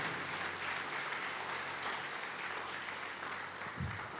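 Church congregation applauding during a sermon, dense continuous clapping from a crowd filling the room, steady and moderately loud without talk over it.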